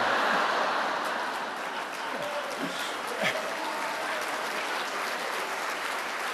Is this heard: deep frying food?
no